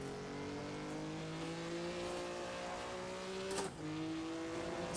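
Racing car engine from the video game Assetto Corsa, a stock-setup car with a 4-speed gearbox, holding a steady loud drone with rising pitch, a brief dip around a gear change, then pulling again, with no talk.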